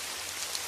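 Steady rain falling on a surface, a continuous even hiss with scattered droplet patter, no voices, heard alone as a soft backdrop.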